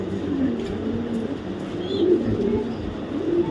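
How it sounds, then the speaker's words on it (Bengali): BRPFC racing pigeons of the 2025 line coo in low, rolling phrases that overlap in a loft, close and steady, with a faint whistle-like chirp midway. "এই যে দেখাই দিই যে বিআরপিএফসি দুই হাজার পঁচিশের অরিজিনাল টাইপের কবুতর"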